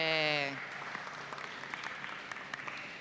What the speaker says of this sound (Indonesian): tepuk tangan dulu untuk Bianca.